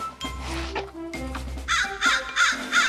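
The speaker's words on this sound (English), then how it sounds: "the crow is reluctant to leave." A crow caws repeatedly in loud, harsh calls, first two longer caws and then a quick run of four sharp ones, close and alone with no talk, in an animated forest adventure story.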